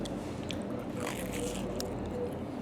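Crispy beef-dripping-battered sea bass from a Hull chippy being bitten and chewed close up, soft crunches and wet mastication over a steady low room hum, no talking.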